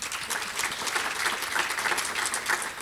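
An audience at a healthcare forum in Montana applauds its sponsors, a steady, dense wash of clapping from a crowd indoors that holds at an even level throughout.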